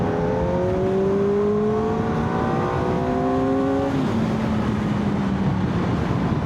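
A 2025 Kawasaki ZX-4RR sport motorcycle engine revs up through the gears, pitch climbing, dropping at a shift, then climbing again, steady and fairly loud with wind noise.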